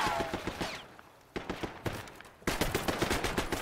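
Rapid bursts of gunfire in a Prop Hunt video game, sharp repeated shots in quick strings with a short lull partway through, fairly close and punchy.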